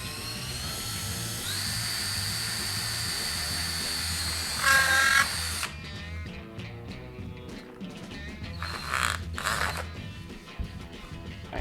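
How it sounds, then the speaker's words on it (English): A high-pitched whine of a power drill running for several seconds, then short bursts of drilling holes in a window frame insert separated by pauses amid clattering handling noises. "Now you need to drill holes every 12 to 16 inches."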